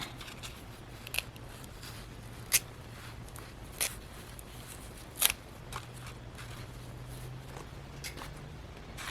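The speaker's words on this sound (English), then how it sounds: "And I'm going to glue a little bit of this coffee dyed lace that I have. just going to cut it and then tear it." Scissors snip coffee-dyed lace for a shabby chic junk journal, a handful of faint, crisp cuts spaced a second or so apart over a quiet background hum.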